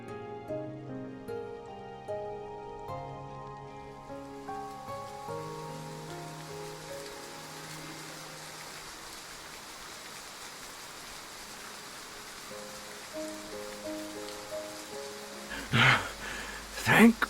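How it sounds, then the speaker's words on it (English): Steady rain falls in a scene from the video game Love and Deepspace, a soft even hiss that takes over as gentle music fades out in the first seconds, with a few louder splashy bursts near the end. "The weather forecast was right after all."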